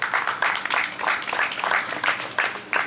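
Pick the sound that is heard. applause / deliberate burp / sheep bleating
applause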